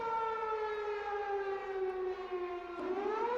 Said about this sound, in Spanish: Ese es un sonido de alerta.